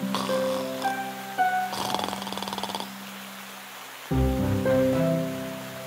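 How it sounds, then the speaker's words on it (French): A cartoon wolf sleeping under a tree snores loudly in an exaggerated comic effect, with a rattling inhale and a droning exhale repeated in two long cycles, heard alone. "Il ronflait si fort qu'il en faisait trembler les branches."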